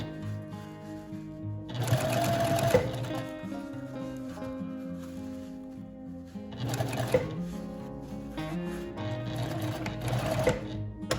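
A sewing machine stitches in a concealed zipper in bursts, a close steady mechanical whirr that starts, pauses briefly, and runs again, with a soft background hum between runs.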